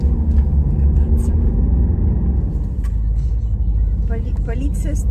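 Car driving on a road, heard from inside as a steady low engine and road rumble, with a voice speaking over it near the end.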